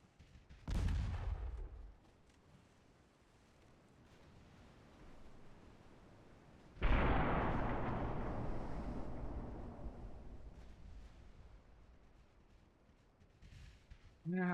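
Warship AP shell salvos in the naval game Ultimate Admiral Dreadnoughts: one loud booming report early, then a second heavy blast with a long rumbling decay, and another burst starting at the end.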